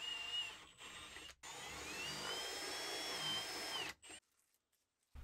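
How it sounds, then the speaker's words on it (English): A power drill with an auger bit whines steadily as it bores into a wooden external door to 50mm depth, pausing briefly twice, then stopping into near silence. "I'm using an auger bit with a piece of masking tape on to allow me to drill out material"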